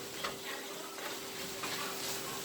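Meat and onions for chicken fried rice frying in a pan, a steady close sizzle with faint stirring scrapes throughout and no talk.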